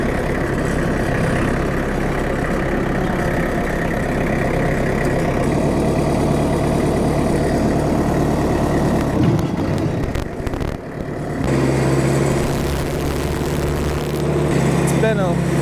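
A lawn mower cuts through grass about four feet tall with a steady, loud engine drone that dips briefly near the middle and then resumes at full strength.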